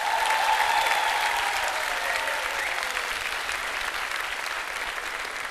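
Studio audience applause on a Turkish TV talk show greets a rock band, a loud, steady crowd clapping that holds throughout and eases slightly toward the end.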